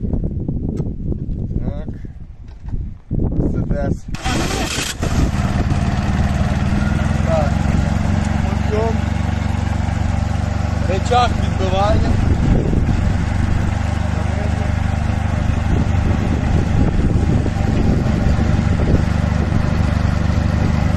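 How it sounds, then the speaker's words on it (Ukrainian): A mini tractor engine, recently fitted with new hydraulics, idles in a steady, close drone after starting, with loud handling noise in the first seconds and brief voices over the running engine. "Це вона працює на холостих обертах."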